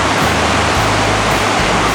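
Frying Pan Creek near Sunrise on Mount Rainier rushes past as a loud, steady wash of broadband water noise, continuous and close with no voices.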